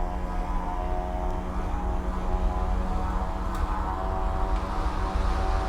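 Aerosoft SeaRey amphibious light aircraft in Microsoft Flight Simulator 2020, its engine droning steadily with a propeller hum and layered tonal whine, loud and continuous throughout with no break.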